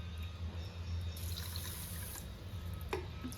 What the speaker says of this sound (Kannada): ಈಗ ತೊಳೆದಿರೋ ಅಕ್ಕಿಗೆ 1 ಲೋಟ ಅಕ್ಕಿಗೆ 3 ಲೋಟ ನೀರು.